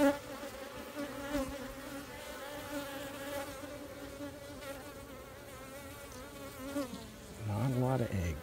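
Swarm of honeybees buzzing steadily around an open beehive, a dense continuous drone of many wings close by, rising slightly louder near the end.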